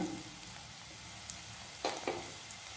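Paneer fried rice ingredients fry over a high gas flame with a steady, close sizzle throughout and a couple of faint clinks from stirring.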